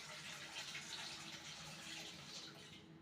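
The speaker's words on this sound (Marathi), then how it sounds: "चला मग नॉर्मल पाणी घेऊन देणार आहे मी पहिल्यांदा" Plain tap water pours steadily into a container for cleaning a fridge, a continuous hiss and splash at low level throughout.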